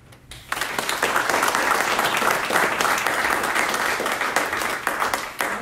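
Sustained applause from a seated lecture audience greeting a guest author, steady and full for several seconds after a brief quiet start.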